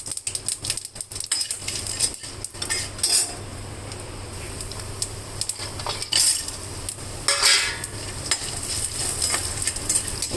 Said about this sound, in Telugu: ఇట్లా తెల్లగా అయ్యేదాకా వేయించుకోవాలి